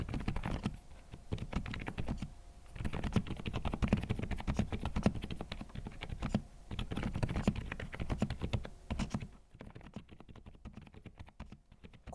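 Typing on a DIY silent mechanical keyboard, a steady run of soft, muted keystrokes in quick irregular rhythm, close and fairly quiet, with no voices.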